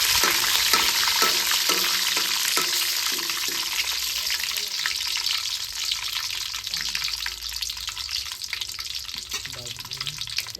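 Mixed spices such as cumin, radhuni and fenugreek fry in a pan in a village kitchen, giving a steady loud sizzle with a few scraping stirs early on and a faint watery tone underneath.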